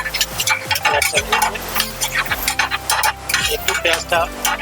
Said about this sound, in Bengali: এবার শেফ একটু হালকা করে পেঁয়াজটা ভেজে নিচ্ছেন